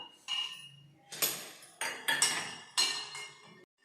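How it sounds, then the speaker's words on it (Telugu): Cashew nuts tipped into a heated pan for frying, giving several sharp clattering bursts of nuts and utensil striking metal, separated by short pauses. "దీనిలోకి నేను ముందుగా జీడిపప్పును వేసి వేయిస్తున్నాను."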